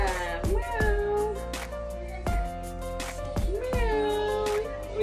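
A large domestic cat meows repeatedly at close range, several drawn-out, whining calls in an uneven rhythm, loud and clear. Bursts of noise break in between the calls.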